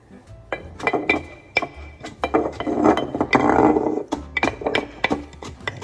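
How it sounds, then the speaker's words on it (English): Wooden tamper smashing chopped kimchi cabbage down into a jar, a run of close, irregular thuds and glassy knocks, with squelching and crunching as the packed vegetables are pressed into their brine. "Tamp it down, smash it down."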